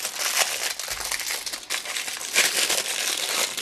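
Plastic packaging from AliExpress parcels crinkles and crackles up close as it is unwrapped, in continuous rustling bursts with no talking.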